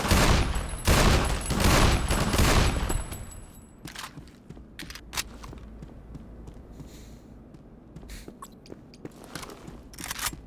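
Rapid bursts of gunfire in a Half-Life mod campaign, dense and loud for the first few seconds, then dropping to scattered single shots and clicks over low game ambience.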